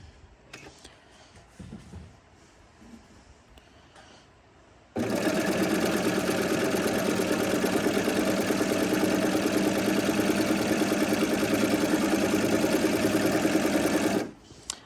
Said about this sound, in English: First step to my hemming is to use my serger to finish the raw edges of the bottom of each